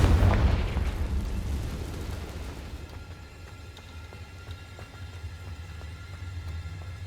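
The Confringo fire spell explodes in Hogwarts Legacy with a loud, close burst that rolls into a long, fading low rumble over several seconds, followed by quieter crackling and ambience.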